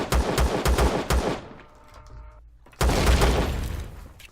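Gunfire in the Empyrion space survival game: a close, loud series of rapid sharp shots, a brief lull with faint ringing, then another heavy volley of repeated cracks.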